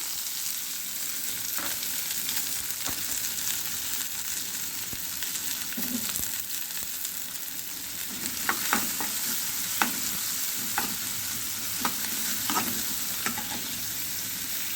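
Chopped onions and masala fry in a pan for a masala pulao, a steady close sizzle running throughout with scattered sharp clicks and scrapes of stirring that grow busier toward the end; no talking.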